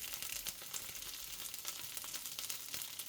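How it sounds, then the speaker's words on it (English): Steady sizzling of star anise and curry leaves frying in a wok, with faint scraping stirs, continuous and close, no talk. "Stir briefly to mix them all together"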